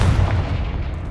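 A deep, rumbling blast from the Confringo spell in Hogwarts Legacy, a single heavy explosive boom that fades out over about a second.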